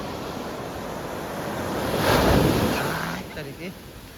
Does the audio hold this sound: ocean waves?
yes